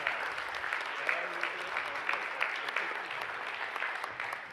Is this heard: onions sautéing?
no